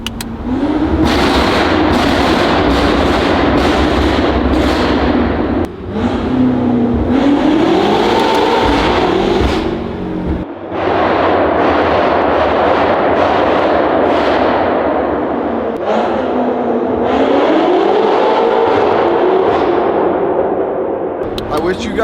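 A BMW F90 M5 with a titanium exhaust drives through a tunnel, its engine revving and the exhaust crackling with loud, rapid popping bursts that echo off the walls in repeated waves, close and very loud with no talking.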